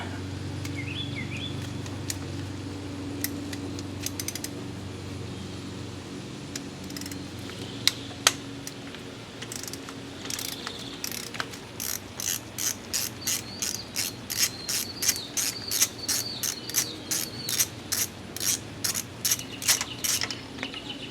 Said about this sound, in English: I'm just going to go ahead and use the torque wrench because it's not torqued down much, so I'm just going to use it to back it out